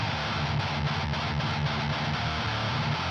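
Heavy, scooped distorted guitar chugs with boomy lows and a hollowed midrange, playing a tight rhythmic riff alone.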